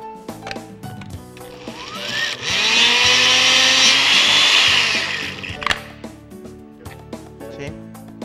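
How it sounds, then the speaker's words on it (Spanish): Kitchen blender grinding sweet corn kernels for a sweet corn cake, a loud steady whirring roar that swells in the middle for several seconds and then drops away, with brief talk and clatter before and after. "voy a ir apoyando ahí el trabajo de la licuadora"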